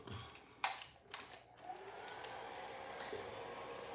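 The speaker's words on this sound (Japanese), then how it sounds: "ちょっとドライヤーうるさいかもしれませんけど、かけさせてくださいね。" A hair dryer blows on a flower painting during a live painting session, starting after a few clicks and handling knocks and then settling into a steady, fairly quiet whooshing hum.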